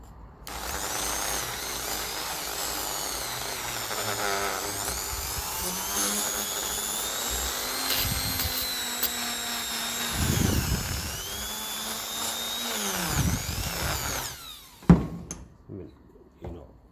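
A small cutting disc tool slicing through rivets on a 1953 Ferguson 20 TEF diesel tractor: a sustained high, whining grind with a steady tone, close and fairly loud, breaking into a few short bursts and clanks near the end.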